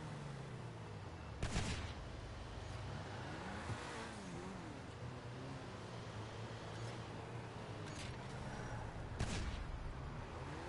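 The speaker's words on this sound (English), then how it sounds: "somebody is shooting directly beside me." Gunfire in GTA Online: a steady engine-like rumble runs throughout, broken by a few sharp loud bursts near and around, with no talking.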